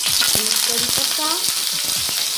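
Curry leaves crackle and sizzle in about two tablespoons of hot oil in a pan, a bright, steady frying hiss with sharp popping spurts, close and loud, with no one talking.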